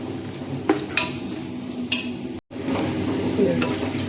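Chopped onions fry with crushed ginger and whole pounded garlic, a steady close sizzle broken by a few stirring scrapes and a brief dropout midway.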